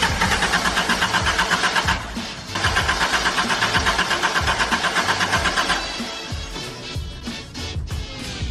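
A Honda Civic engine at an indoor car show runs loud and rough with a pulsing, uneven churn and several short dips where it stumbles, as if struggling to stay running.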